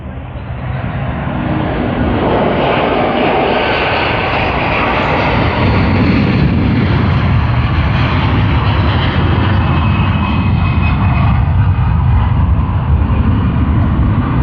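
A Sri Lankan Airlines jet airliner departs Sydney Airport for Colombo with a loud, close, continuous engine roar that builds and holds for the whole stretch, with no talking.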